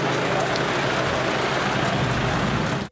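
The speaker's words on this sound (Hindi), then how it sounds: "राजनपुर और गिरदोनवा में पानी से भरे बादल छलक पड़े।" Heavy monsoon rain pours down in a dense, continuous hiss and patter, loud and steady throughout with no voices, cutting off abruptly at the end.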